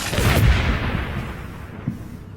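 Gunfire and artillery in the video game Combat Mission: Battle for Normandy make a heavy boom with a rumbling tail, followed by a smaller distant thump, loud and with no talk over it.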